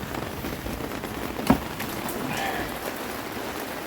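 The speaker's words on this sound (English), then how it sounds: "it's the second day of hardcore rain here in Pakawau" Steady hiss of heavy rain falling on surfaces in Pakawau, constant and close, with one sharp knock partway through.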